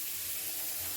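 Onions fry steadily in a pan, a soft continuous hiss with faint sizzling texture, quiet and even throughout without any talk.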